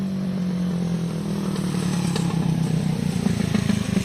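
A loud motorcycle engine runs steadily and close by, its low rumble growing slightly rougher toward the end, with no talking.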